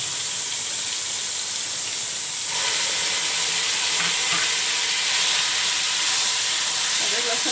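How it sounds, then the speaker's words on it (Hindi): Ginger-garlic paste hitting hot oil with browned onions in a karahi for beef tikka karahi, giving a steady, bright sizzle and hiss that swells a little partway through, with no voices. "लहसुन को भी अच्छा सा भूनेंगे"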